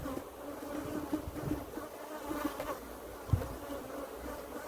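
Africanized bees buzz steadily around an open hive as smoke from burning cashew seeds is puffed over it, a continuous close insect drone with a few louder passes.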